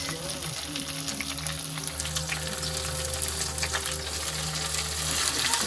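Onions go into hot oil after browned garlic for a meat curry, producing a dense, steady sizzle and crackle close by with a low hum underneath, the frying growing slightly louder toward the end.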